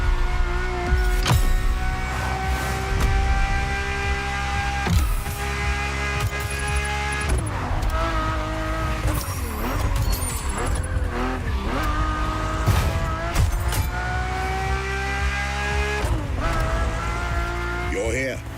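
A Ferrari F50 drives in The Crew Motorfest, its engine giving a steady sustained drone with shifting pitch and occasional tire squeal, loud and close throughout.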